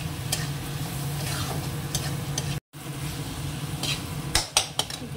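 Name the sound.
spice masala with green chili and tomato sizzling in pan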